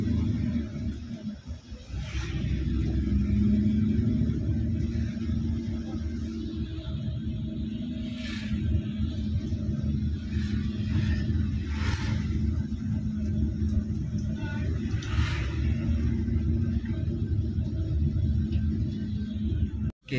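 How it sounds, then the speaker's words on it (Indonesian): Steady low engine rumble and road noise inside an Adhi Putra Avante H8 aluminium-bodied sleeper bus on the road, continuous and close, with faint higher hiss bursts at intervals and no talk. "suasana di dalam bis terbaru di Putra ini"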